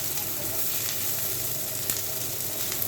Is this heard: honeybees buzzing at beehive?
no